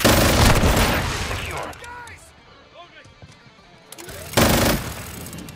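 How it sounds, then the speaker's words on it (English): Heavy machine gun in the video game Call of Duty Modern Warfare, fired in loud dense bursts at the start and again near the end, with quieter game sounds and someone talking in the stretch between. "it's so hard to control the fucking big ass machine gun"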